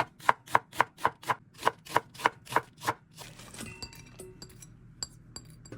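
Chives and half an onion being chopped with a knife on a cutting board, about a dozen crisp rhythmic knocks close by, then fading into softer scattered clinks and scraping.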